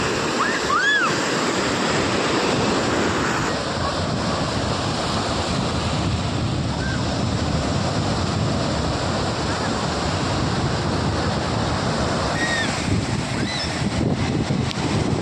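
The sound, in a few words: roaring sea waves, Sri Lankan coast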